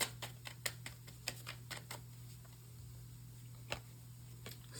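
Tarot cards are pulled from a deck in a quick run of light, close clicks and flicks, followed by a pause and one more snap over a faint steady hum.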